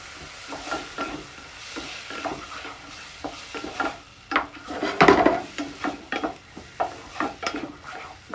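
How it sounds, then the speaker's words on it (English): Onions sauté in a pan as a utensil stirs them, giving repeated scraping clacks over a steady soft sizzle, with one louder clatter midway. "we're going to throw some onions in there. We're going to saute this out."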